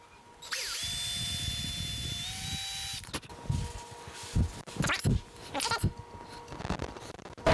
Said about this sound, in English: I've got my drill with my 1/16 inch drill bit.